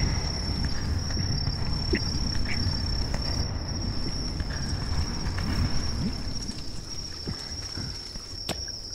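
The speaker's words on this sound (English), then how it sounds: "I can hear the crickets." Crickets chirp in the video game The Forest, a continuous high, steady trill over a low rumbling background scattered with faint clicks and taps, with no one speaking.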